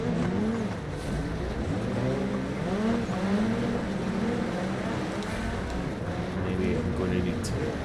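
Rear-wheel-drive rally car engine in BeamNG, a high-powered machine droning and shifting pitch in repeated rising sweeps, steady and close, with a voice talking over it.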